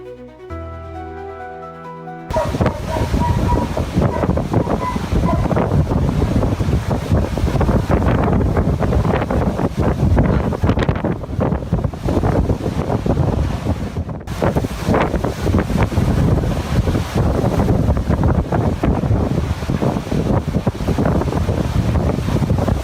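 Strong tornado winds roar in Uruguay, a constant loud rush of buffeting wind after a brief quieter opening, battering the microphone with heavy, unbroken turbulence.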